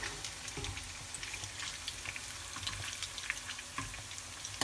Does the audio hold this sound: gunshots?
no